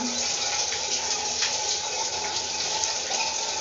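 Tap water runs steadily during a bath in a Manila home, a continuous close splashing rush with no talking over it.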